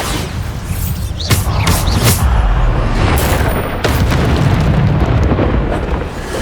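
A Bombarda spell blasts in the Hogwarts Legacy video game, a loud booming explosion with rumbling low-end and several sharp bursts layered over continuous heavy game-combat noise.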